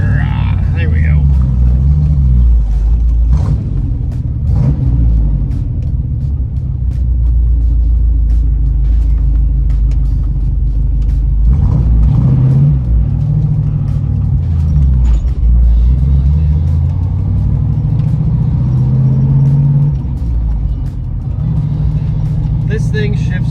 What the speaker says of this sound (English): This thing shifts great. Goes through all of its gears nice.